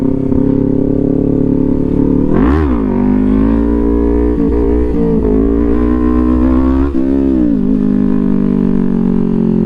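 An Aprilia RS 660 sport motorcycle engine revs hard and climbs in pitch as the bike accelerates up into a wheelie, then holds a loud, steady drone with brief dips, close by throughout.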